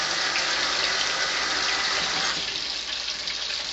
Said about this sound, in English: I'm going to go ahead and rinse my hands quick.